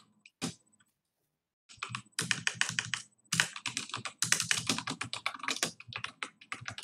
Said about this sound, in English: You guys like my typing ASMR?